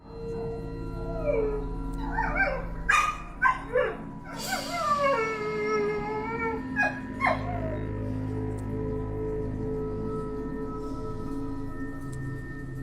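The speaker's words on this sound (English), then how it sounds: "my dog wouldn't stop barking" A dog barks, yips and howls at 4 in the morning outdoors. The bursts are close and loud, several coming in quick succession, then a steady background hum fills the quieter stretch that follows.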